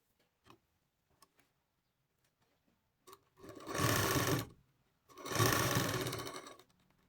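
A sewing machine stitches the neckline of a katori blouse in two loud, close runs of rapid rattling, each about a second and a half long, with faint clicks and handling ticks in the quiet before.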